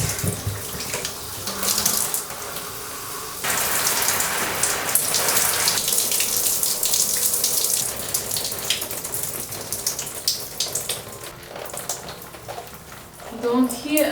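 Running water splashes and patters steadily while rinsing hair in a shower, a dense hiss that shifts as the flow is moved, with someone speaking at moments.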